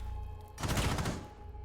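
Gunfire in Rainbow Six Siege during a competitive esports match: a short, dense volley of shots bursts out for about half a second over steady background hum, then quickly fades.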